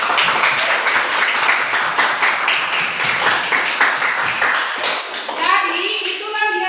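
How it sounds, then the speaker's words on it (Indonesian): A classroom of students applauds after a group discussion, with a dense, loud burst of clapping that fills several seconds and then tapers off, while children's voices chatter underneath. "Jadi ibu akan memberikan aplaus untuk kita semua"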